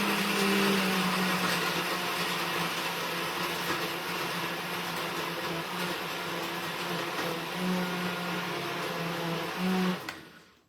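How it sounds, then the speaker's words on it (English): A kitchen blender whirring a mocha latte shake: a loud, steady motor drone with a buzzing whine runs for about ten seconds, then cuts off abruptly. "He's going to turn on the blender"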